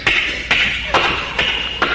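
A performer vocally imitates footsteps walking down a sidewalk: five crisp, evenly spaced taps at a steady walking pace, close and fairly loud against a quiet background.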